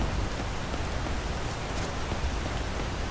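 Heavy rain in the video game Skyrim, a dense, continuous hiss of downpour that stays even and steady throughout, moderately loud with no voices.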